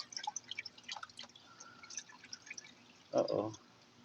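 Engine oil dripping into a drain pan as the oil filter comes off a car engine, a scatter of small irregular drips and then a brief louder splash near the end.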